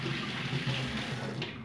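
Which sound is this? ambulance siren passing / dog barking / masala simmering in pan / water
water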